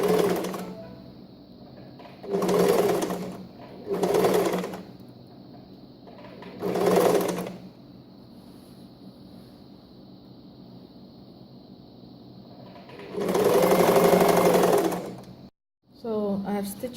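A sewing machine stitches satin fabric for a reversible bonnet in several loud bursts, with quiet pauses between runs and a longer burst near the end.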